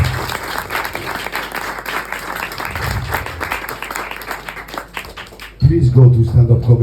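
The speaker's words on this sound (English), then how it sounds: "big round of applause for Dan" Comedy club audience at a Madrid stand-up show breaks into steady, close applause and clapping for several seconds; toward the end the clapping fades and a louder voice cuts in over the crowd.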